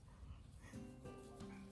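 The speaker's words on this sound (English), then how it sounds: "he likes to bark at the spreader." A dog barks and whimpers in short yelping bursts at a lawn spreader in a front yard, faint and somewhat distant over a broadband outdoor noise.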